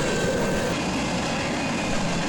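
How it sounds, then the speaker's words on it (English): A heavy northbound grain shuttle freight train rumbles past a crossing close by in Norman, Oklahoma, a constant loud roar of rolling wheels and rattling cars with no voices. "A northbound grain shuttle, much like this one, was barreling north"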